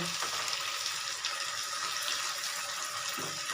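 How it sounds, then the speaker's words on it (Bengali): Ginger and green chili paste fries in a pan while cooking chicken kofta pulao, giving a steady, close, continuous sizzle and hiss throughout with no talking. "আদা কাঁচা লঙ্কা বাটা ওটাও দু মিনিট ভাজব"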